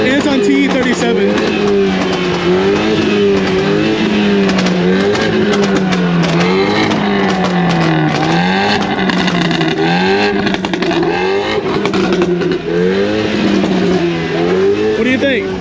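BMW drift car running T37 tires at Vietnam Drift Club revs hard and continuously, its loud engine note rising and falling in waves with tire noise, while people talk underneath.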